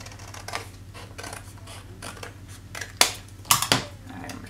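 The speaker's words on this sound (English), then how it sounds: "Take a pair of scissors and go ahead and cut out half of a triangle." Scissors snip through cardstock while a torn Christmas tree card is being made. A run of soft crisp cuts leads to a few louder sharp snips near the end, close and fairly quiet, with no talking.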